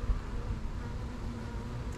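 Honeybees buzzing around hives at a château apiary, a steady close droning hum with no talk.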